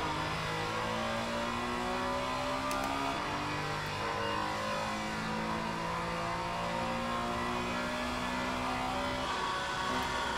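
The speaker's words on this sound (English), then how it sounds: "I'm feathering the throttle on that corner without dropping to second there" A race car engine at Imola in a racing video game idles along at low revs with the throttle feathered through a corner, a steady, droning hum with gently wavering pitch.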